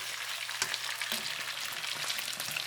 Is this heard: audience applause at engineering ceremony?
no